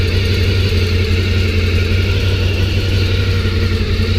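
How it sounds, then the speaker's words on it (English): A Honda VFR 750 motorcycle engine runs steadily close by after a carburettor rebuild, a loud continuous idle with an even low throb and no voices. "rebuilt the carburetors, fired them back on again, and this is the result"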